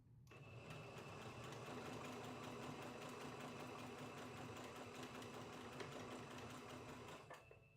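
A sewing machine stitches a patch in one continuous run, a fast, even mechanical whirr and needle clatter that starts and stops cleanly, moderately quiet and alone.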